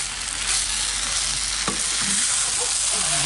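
Bánh tét filling sizzles steadily in a pan on a stove as it is stir-fried, a dense close hiss with a faint scrape of stirring partway through and no voices.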